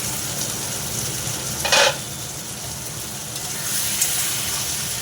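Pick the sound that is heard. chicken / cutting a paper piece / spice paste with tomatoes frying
spice paste with tomatoes frying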